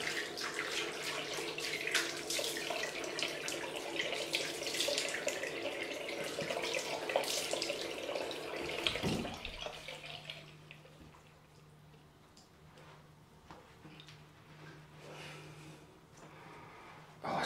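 A running tap rinses a freshly shaved head after a cold wet shave with a Mach 3 razor. The steady stream of water is close at first, then thins into lighter trickling and drips.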